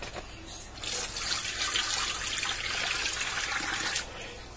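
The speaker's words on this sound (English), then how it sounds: "I'm going to add in 4 cups of water." Water pours steadily into the pot of an Elite Infinity cooker for a few seconds, a full rushing splash that starts abruptly and stops just before the end.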